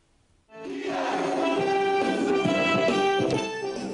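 A full crowd of baseball fans cheers in the stands at Gwangju-Kia Champions Field during an exhibition game. The sound is a loud, sustained roar of massed voices that rises suddenly after a quiet start and holds steady.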